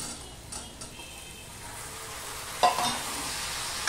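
Ridge gourd pieces drop into a pan of frying potatoes and onions, setting off a sudden louder sizzle over the steady background frying, with a few faint scraping and stirring clinks.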